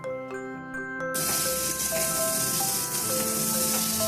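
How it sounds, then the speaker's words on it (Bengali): Spring onion stalks fry in a pan with a loud, steady sizzle that kicks in sharply after a quiet second and continues unbroken, with faint tonal background hum underneath. "ভেজে নেওয়া হচ্ছে।"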